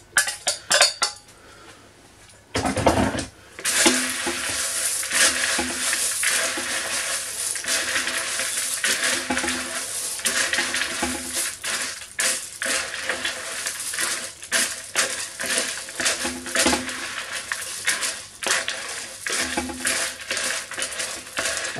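Cornflakes being stirred and crushed together in a bowl for a cornflake tart, a continuous crunchy scraping with clinks of a utensil against the dish, fairly loud and close, with rhythmic strokes and no talking.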